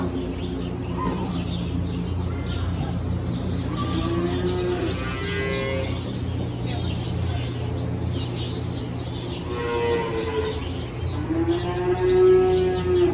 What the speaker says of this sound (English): We got the calves over here.